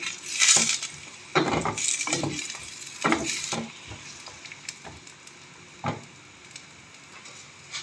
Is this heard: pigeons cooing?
no